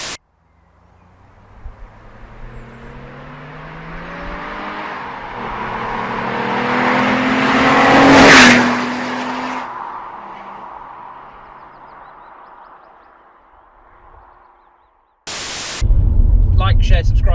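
An Alfa Romeo 166 drives past on an open road, its engine note swelling as it approaches, peaking close by and fading into the distance, followed by a sudden burst of loud wind buffeting at the end.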